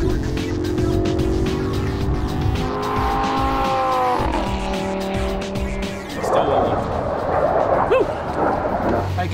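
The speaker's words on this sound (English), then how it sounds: "was first up in the Lamborghini Gallardo Superleggera" A Lamborghini Gallardo Superleggera supercar drives hard around a track, its engine note climbing and dropping through gear changes, with a tire squeal and a louder, rougher stretch toward the end.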